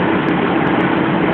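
A factory machine's motor runs fast at a job in Korea, giving a steady, loud mechanical hum and drone with no break, heard up close and alone.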